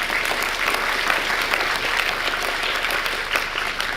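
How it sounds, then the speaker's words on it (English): A conference audience applauds a financial-institutions panel on investment in Kazakhstan, a dense, steady wash of many hands clapping throughout without a break, loud and fairly close, with no talk over it. "A round of applause, please."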